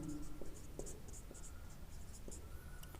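Pen writing by hand on paper during a physics lesson, with soft scratchy strokes and several small taps at intervals, close and fairly quiet.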